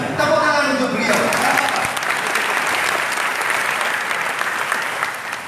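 Steady, loud applause from an audience at an Indonesian religious gathering with several Gus scholars, continuous broadband clapping that fills the whole span after a brief bit of speech at the start.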